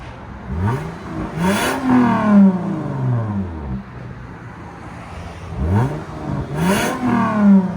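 A 2008 Lexus IS 250 with the 2.5L V6, fitted with a universal valved muffler and its valves shut, revs twice from idle. Each rev climbs and falls back in a fairly muted, close exhaust note, with a short idle between the two.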